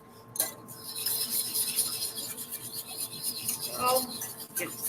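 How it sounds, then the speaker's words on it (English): A wire whisk scrapes and rubs continuously around a pan as roux is stirred into milk for cheesy scalloped potatoes, a steady close raspy swishing with occasional metallic clinks against the pan sides. "Constantly stir with your whisk all around in the corners"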